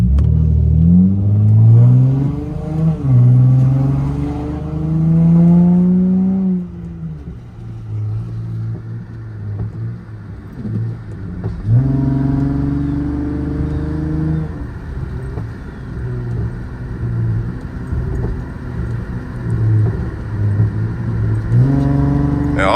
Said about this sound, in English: I figured out how to make my car pop more